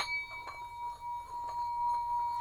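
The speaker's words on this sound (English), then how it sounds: "If I want that singing bowl sound, I'll use either of my drill boo bells here" A bell without a clapper rubbed with a wand gives a steady, sustained singing-bowl ringing tone with bright overtones that hums on without any strikes.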